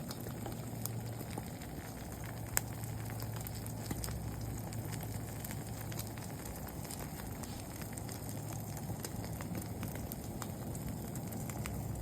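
An egg omelette with tomatoes and onion fries steadily in a pan, giving a constant soft sizzling hiss with faint crackles that runs evenly for the whole stretch and has no voices over it.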